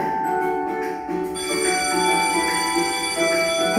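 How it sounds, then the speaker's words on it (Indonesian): An electric school bell rings for break time, a steady sustained metallic ringing with bright sharp tones, heard continuously at moderate level with no talking. "bunyi bel menandakan jam istirahat sekolah"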